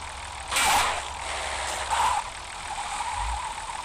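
A car engine on a two-stage rev limiter revs in short bursts as the accelerator is pressed and released, two quick swells over a low idle with faint mechanical clicks, without talking.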